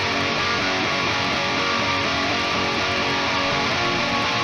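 A left-panned rhythm guitar track played back alone from a recording session, a crunchy single-coil tone with an octave effect, continuous and loud with no voices over it.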